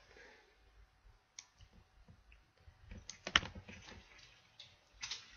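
Computer mouse clicks at a desk while exporting an image in editing software, scattered quiet clicks followed by a cluster of sharper close clicks, with some faint keyboard-like tapping.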